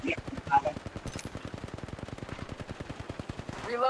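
Rapid automatic gunfire from Apex Legends Mobile rattles out in a long, even burst of evenly spaced shots, moderately close, with a few faint tonal game sounds and a voice near the end.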